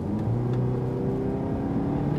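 A car engine revved hard toward its limit, a sustained, smooth whirring drone with a low tone that rises slightly and holds steadily, fairly quiet and refined, with no one talking.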